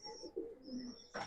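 Bajrai pigeons cooing softly at close range, a few low, rolling coos with a faint higher tone above, alone without talk.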